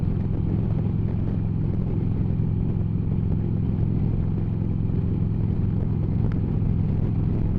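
A group of about thirty motorbikes rides together, heard as a constant close engine rumble with a steady drone and no distinct passes, loud and unbroken from start to finish.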